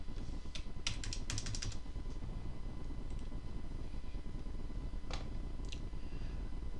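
Several short bursts of clicking keystrokes are entered on a keyboard while an odometer reading is typed in, faint and close against a quiet steady hum.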